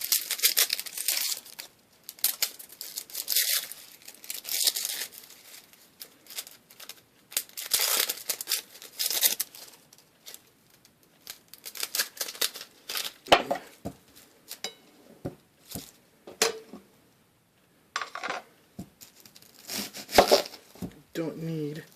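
Dry papery crinkling and crackling as the skin is peeled off an onion for homemade salsa, close by, coming in irregular bursts with short quiet gaps between them.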